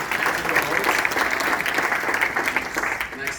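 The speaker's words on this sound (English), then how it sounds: "Applause for you." An audience at a lecture during a clean buses meeting applauds with dense, steady clapping from many hands, loud and sustained, with a voice faintly audible over it.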